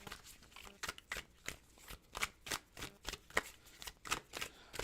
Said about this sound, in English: I like shuffling this deck a lot,